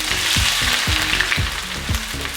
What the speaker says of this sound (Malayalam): മീഡിയം ടു ഹൈയിൽ വെച്ച് നന്നായിട്ട് ഇത് ഇളക്കി വറുത്തെടുക്കാം